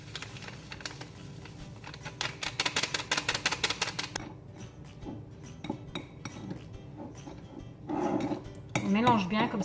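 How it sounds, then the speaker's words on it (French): Whipping cream being mixed with sugar in a bowl: rapid metallic tapping and clinking of a whisk against the bowl, with a brisk rhythmic burst early on and scattered scraping clinks after, fairly close and quiet. "on mélange la crème fixe avec notre sucre pour éviter qu'elle fasse des grumeaux ensuite"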